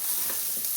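Asparagus frying in butter in a pan gives a short, steady sizzle with a soft stir partway through, close and moderately loud, with no voices.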